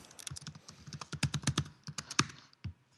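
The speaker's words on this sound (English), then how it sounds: "You're typing very authoritatively, though" Quick, firm typing on a computer keyboard, a dense run of sharp close keystrokes with brief irregular gaps, heard alone without talk.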